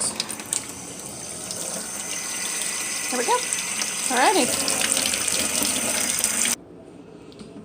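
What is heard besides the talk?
water running from sink tap, filling sink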